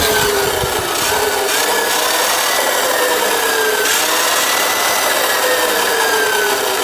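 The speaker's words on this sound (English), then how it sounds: "give it throttle, and there you go," A Sur Ron electric dirt bike's motor spinning under throttle while the bike rests on its side stand after a controller replacement, a loud, steady whine whose pitch slides up and down with the throttle, with no talk.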